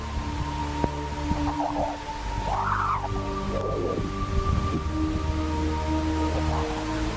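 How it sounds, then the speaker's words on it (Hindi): Sonified solar probe data of dispersive waves from solar storms, heard as eerie rising and falling whistling tones over a steady hum, with sweeping chirps recurring across the stretch. "अभी जो आपने आवाज सुनी ये सूर्य से निकलने वाले शोर तूफानों की एक खास तरह की डिस्प्रेसिव वेव से पैदा हो रही है।"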